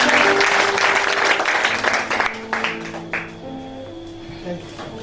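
A church congregation bursts into loud applause and cheering, the clapping fading after a few seconds while an organ or keyboard holds sustained chords underneath.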